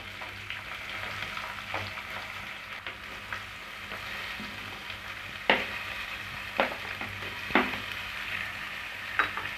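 Finely chopped onions sauté for tomato thokku, a steady low sizzle under intermittent spatula scrapes and taps against the pan, close and moderately loud.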